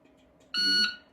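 Shot timer for a shooting drill giving a single sharp electronic beep, loud and close, about a third of a second long, in an otherwise quiet room.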